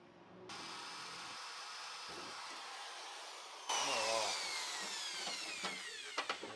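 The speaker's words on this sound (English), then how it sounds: "I'm just going to drill this out" A power drill whirs continuously for several seconds while drilling out a metal part of a tailgate handle, then grows louder and harsher as it cuts, with a few sharp clicks toward the end.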